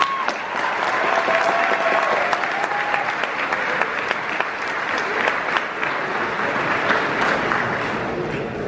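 Sustained applause from a large crowd at a high school graduation ceremony, dense steady clapping lasting throughout, with a few whistles and cheers rising above it.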